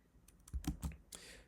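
A few distinct key presses on a Mac keyboard, Command then Space, tapped close and clear in a quiet room, with a softer final press trailing off.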